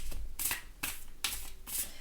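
Beautiful Creatures tarot cards being shuffled by hand, four quick riffling bursts in a steady rhythm, close and soft with no talk.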